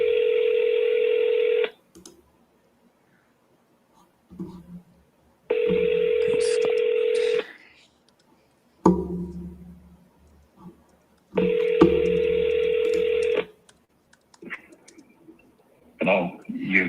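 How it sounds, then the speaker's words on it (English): Telephone call being placed: a steady ringback tone sounds in three long evenly spaced bursts, loud and close, with quiet handling noise and brief murmurs in the gaps between rings. "I'm calling the ones that I bought last night"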